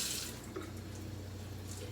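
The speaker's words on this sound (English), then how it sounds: "The next step is to turn on the faucet to lukewarm water." Lukewarm water runs steadily from a faucet into a sink with a soft, continuous splashing hiss and a low hum beneath it, close by and moderately quiet.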